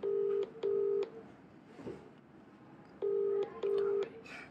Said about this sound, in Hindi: फोन उठा ही नहीं रहा, फोन नहीं उठा रहा भाई